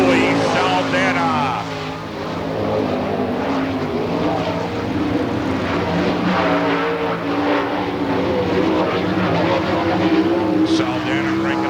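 A sprint car at an All Star Circuit of Champions Spring Nationals race in Hartford, Ohio, roars loudly out of turn four, its engine a continuous high-revving blare while an announcer talks over it.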